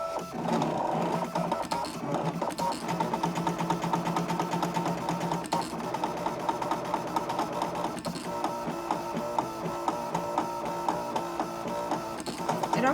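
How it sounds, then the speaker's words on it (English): A Brother ScanNCut2 cutting machine draws to fill in a font, giving a steady mechanical whir with rhythmic buzzing and clicking much like a laser printer, continuous and close up. "that reminds me of a printer like printing like laser jet"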